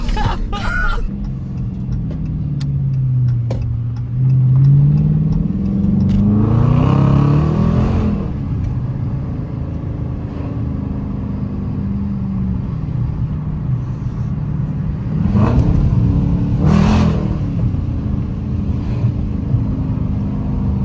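A 2023 RT car accelerating hard through city streets, the engine rising and swelling in several loud revving pulls with a steady low rumble in between, heard from inside the cabin.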